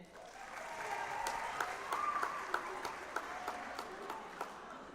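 An audience at a school band concert applauds steadily, many hands clapping at a moderate distance, with a few sharper claps standing out and a faint murmur underneath.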